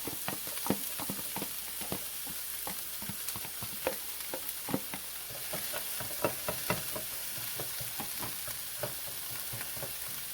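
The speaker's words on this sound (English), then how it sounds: "So now I'm going to go in with the onions and the scallion." Onions and scallions fry in a pot of hot oil for shrimp fried rice, giving a steady sizzle with frequent sharp crackles and stirring clicks, close and moderately loud, with no talking.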